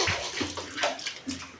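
Water sloshing and splashing as a room is washed down, a steady wet rush with a few louder splashes, close and continuous with no talking.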